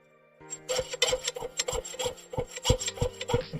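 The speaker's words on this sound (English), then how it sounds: "the sound of the blade whenever it starts to be clogged up and not cutting very well" Saw blade cutting through a metal whale tail spring bracelet, a rapid series of short rasping strokes in an uneven rhythm, close and fairly loud, dulled like a clogged blade that bites poorly.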